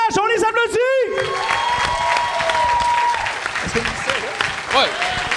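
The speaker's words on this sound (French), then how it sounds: "On les applaudit." A live audience at a comedy show gives steady, loud applause mixed with cheers and whoops, while a host's amplified voice carries over the clapping.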